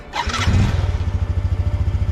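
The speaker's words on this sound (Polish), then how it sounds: "Włączamy silnik" A motorcycle engine in Cambodia cranks and catches, then settles into a loud, steady idle with a rapid, even thumping rhythm close by.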